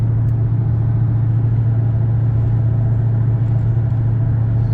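A Redeye Hellcat Challenger cruises in eighth gear, giving a steady low engine drone with a faint constant whine riding on top, even and unbroken throughout.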